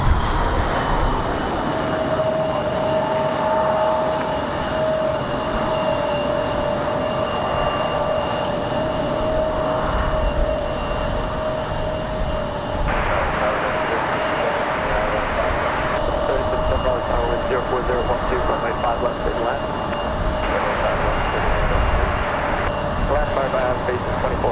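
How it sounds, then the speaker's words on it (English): An Airbus A220 airliner lands with a loud, sustained engine roar and a steady high whine, heard at an airport over about twenty seconds. "Nice smooth touchdown for the A220."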